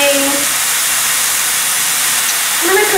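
Steady broadband hiss of burgers sizzling on an electric smokeless grill, continuous and fairly loud with a faint tonal squeal near the start and end.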